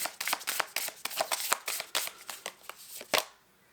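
Tarot cards being shuffled in quick, crisp riffling bursts, a dense run of papery flicks and snaps that ends with a sharper slap before falling quiet.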